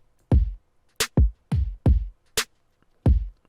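Sparse punchy layered drum hits with deep booming kicks and sharp snaps, played in a loose pop-punk pattern with silence between the beats.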